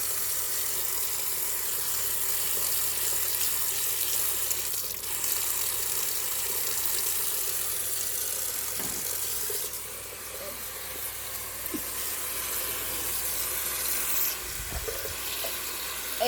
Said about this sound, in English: it's so exciting seeing hot water just pouring over your noodles